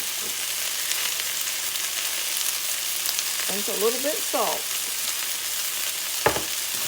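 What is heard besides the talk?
onions frying with sage, rosemary, pepper and salt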